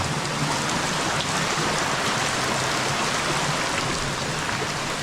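Heavy monsoon downpour in Konkan, a dense, loud and unbroken roar of rain hitting the ground and surfaces close by, with no voices over it.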